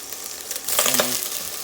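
Chayote and other vegetables dropped into a hot pot for a Filipino-style pot roast, a brief burst of sizzling and frying that swells then settles, close and moderately loud.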